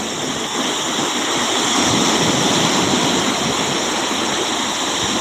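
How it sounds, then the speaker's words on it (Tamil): Sea waves crash and roar continuously on Kottakkuppam beach, a loud, dense surf wash with no pauses and no voices. "கடல் அலைகள் எல்லாம் எப்படி அடிக்குதுன்னு பாருங்க"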